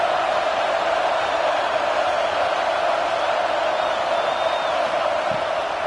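A big stadium crowd at a football game roars in a steady, dense wall of noise, loud and continuous throughout, with scattered whistles and whoops rising above it.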